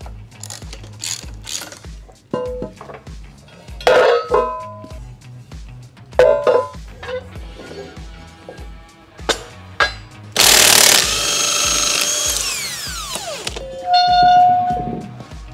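A wrench working to pull the weights off a Lightning floor scraper, heard as close metallic clanks, ratcheting clicks and knocks in an uneven rhythm, with a louder scraping rush of metal near the end.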